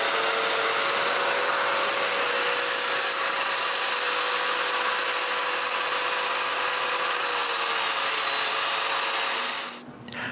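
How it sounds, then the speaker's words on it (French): A power drill bores mortises into glued wooden sections for a wooden tripod, a loud continuous whine with steady tonal hum that holds for about ten seconds before winding down. "puis je perce des mortaises"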